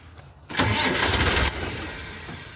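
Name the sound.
engine cranking and trying to start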